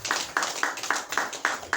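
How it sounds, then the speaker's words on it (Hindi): An audience claps together in a steady rhythm at a gathering, with sharp, evenly spaced claps about four per second and no talking. "ताली बजावा हाली हाली,"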